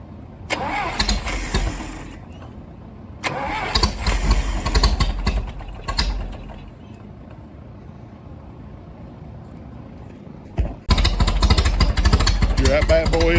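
A Massey Ferguson tractor engine running after a head gasket replacement: loud diesel rumble that revs, drops back and cuts out, then roars up again.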